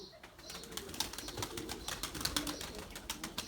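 Bozma pigeons coo steadily in a loft, soft repeated calls layered with faint rustling and a few wing flaps, fairly close and continuous throughout.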